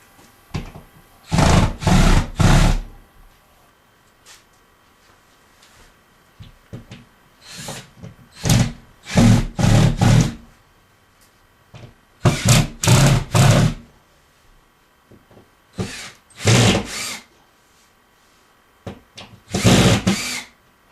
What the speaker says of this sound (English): these screws need to be countersunk before you start mudding